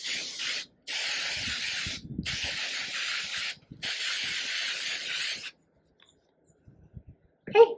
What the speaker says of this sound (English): I'm going to take my mold release and I'm going to give it a generous spray